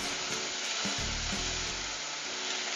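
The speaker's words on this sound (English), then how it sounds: "I wanted the onions to cook first, and now I'm gonna add the garlic to it." Chopped garlic sizzles loudly in a pan of cooking onions, a steady dense frying hiss with a few brief stirring scrapes and thumps, close and continuous with no talk.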